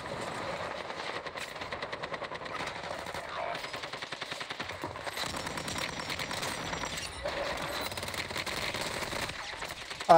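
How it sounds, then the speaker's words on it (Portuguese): Sustained automatic machine gun fire from the Warzone Mobile shooter game rattles on for the whole stretch, rapid, dense and steady, with other battle noise mixed underneath. "eu paro de atirar pensando que já matou"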